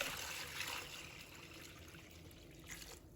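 Apples being rinsed by hand in a basin of water, a soft continuous trickle and slosh, close and quiet, with no voices.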